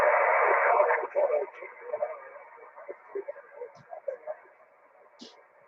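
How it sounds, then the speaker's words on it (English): A faint, unidentified station coming through on a 146.415 FM amateur radio net, a narrowband voice-like signal that fades from moderate to very weak, broken and hard to make out. "I'm hearing a very low station in there."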